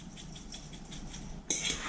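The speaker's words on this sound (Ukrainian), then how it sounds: "Перемішую так, аби яйця покрили всі баклажани." Eggplant pieces are being mixed into beaten eggs in a bowl: a close, rhythmic run of utensil scrapes against the bowl, about eight regular strokes, ending in a brighter, louder clatter.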